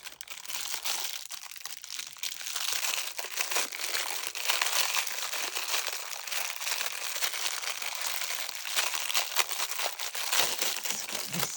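Plastic packaging around washi tape being crinkled and torn open, a continuous loud rustling crackle lasting about ten seconds, close up with no talking.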